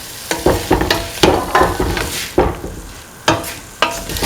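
Tomato and pumpkin pieces stirred together in a hot pan, loud close scraping strokes repeating every half second or so over a continuous sizzle, no voices.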